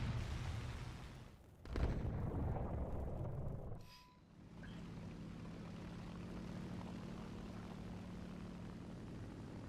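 Propeller aircraft drone past overhead in the combat flight game War Thunder, a low rumbling engine sound that swells, drops away around the middle, then settles into a steadier distant hum, with a sharp burst near the start.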